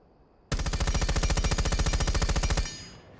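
Fuze's weapon firing in Rainbow Six Siege, one loud close continuous burst of rapid evenly spaced shots lasting about two seconds, then a short fading tail.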